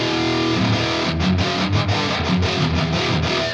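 A distorted electric guitar runs through a free amp and cabinet simulator plug-in with two cabinet impulse responses out of phase, giving chugging palm-muted riffing with a thin, hollow tone and no talking.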